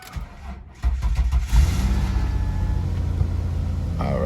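An old car's engine cranks and catches roughly, then settles into a steady low rumbling idle.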